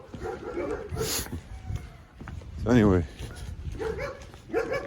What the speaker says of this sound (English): stupid fucking dogs